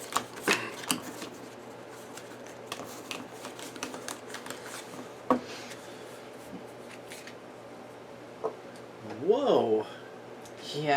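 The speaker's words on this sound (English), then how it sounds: "can't hurt to shuffle it again" A deck of game cards for the Pathfinder Adventure Card Game, Skull & Shackles, is shuffled at a table, soft scattered riffling clicks and flicks with a brief louder flurry near the end, while people chat nearby.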